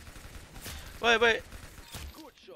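Game guns fire in the Roblox Arsenal video game, a few sharp isolated shots spaced apart, with a louder burst in the middle, beneath ongoing game sounds and talk.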